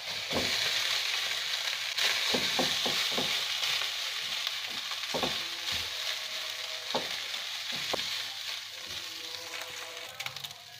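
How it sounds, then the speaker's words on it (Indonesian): Noni leaves stir-fried in a pan for fried rice, a steady close sizzling hiss broken by repeated scraping and tapping spatula strokes. "Daunnya ditumis"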